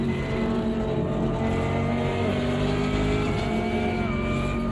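A Corvette race car engine roars at Road Atlanta in Automobilista 2, a dense, sustained high-revving drone with shifting pitch that stays loud and close throughout, with no talk.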